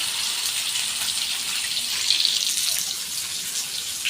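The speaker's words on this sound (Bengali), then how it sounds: "এবার জল দিয়ে দেবো" Water pours steadily into a pan of cooking curry with okra and fish roe, a constant close hissing splash with no break, alone and without voices.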